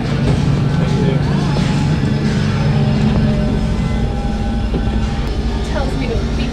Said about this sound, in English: We get these tokens to ride the trams up to the top.